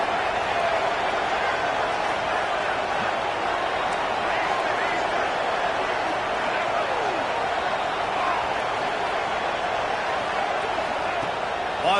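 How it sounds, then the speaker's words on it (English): A packed college football stadium roars steadily during a Texas Tech third down, a dense, loud wash of crowd cheering and noise that holds without a break throughout. "Guns up, and so is the noise. The crowd electric, trying to help Tech on this third down."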